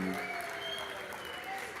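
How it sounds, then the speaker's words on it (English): Crowd applause at a darts match in a live tournament, a steady wash of clapping heard under continued talk from a commentator. "And a round of applause again from Wendy."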